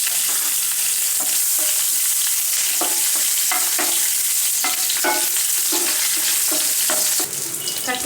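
Green chillies and curry leaves crackle and sizzle in a hot pan with whole spices, loud and close, with steady frying noise and repeated stirring scrapes and no voices.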